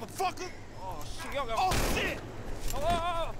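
Gunfire rings out in a Grand Theft Auto V street fight, a short burst of sharp reports mixed into game sound, while a person talks over it.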